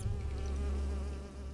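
A short, steady drone of buzzing wasps from the hidden-object game Nightmares from the Deep 3: Davy Jones, close and continuous, with no talking over it.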